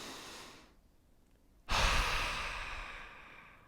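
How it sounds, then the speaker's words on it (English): A deep, slow breath during a standing yoga and meditation routine: a soft airy inhale, a brief quiet pause, then a fuller, louder exhale that tapers gradually, close and alone. "take a deep awareness breath"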